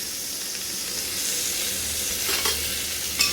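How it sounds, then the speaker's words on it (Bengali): Chicken pieces sizzle steadily, lightly frying in a hot pan for a stew, a constant bright crackle with a few scraping stirs near the end. "আর একটু নাড়াচাড়া দিয়ে একটু হালকা ভাজা হবে"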